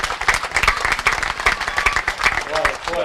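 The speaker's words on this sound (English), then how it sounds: "let's get a big round of applause for that last speech" A live audience at a 2010 Relay for Life event claps steadily in a dense, sustained round of applause filling the whole moment, with a voice briefly audible beneath it.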